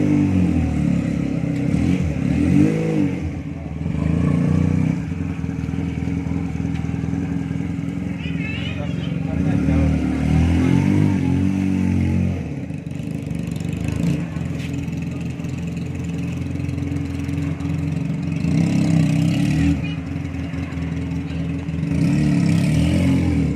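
A Benelli PE250 motorcycle engine idles and revs lightly through a slow, tight turning manoeuvre, its steady mid-pitched drone rising and falling a little beneath continuous close talking.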